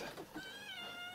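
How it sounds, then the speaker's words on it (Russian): Domestic cats meow in a faint, drawn-out, wavering call, heard alone at low level with a soft background hiss. "Хороши у меня кошки."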